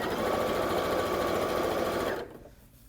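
Close, rapid whirring of a sewing machine stitching piping onto an outdoor throw pillow, running steadily for about two seconds and then stopping abruptly.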